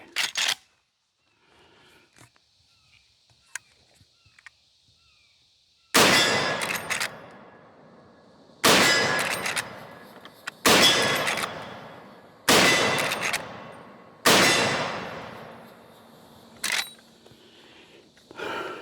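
A 45-70 rifle and a 50 Beowulf rifle fire about six very loud, sharp shots at irregular intervals, each with a long ringing decay, separated by quiet pauses with a few faint clicks.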